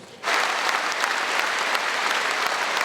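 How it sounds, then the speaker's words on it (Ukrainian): A concert hall audience gives a legendary poet a standing ovation at his jubilee birthday concert, with dense sustained applause that starts abruptly and holds steady without voices. "Зал аплодував легендарному поету, стоячи"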